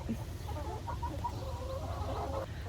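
Hens cluck softly and continuously inside a coop, with a low steady rumble running underneath the clucking.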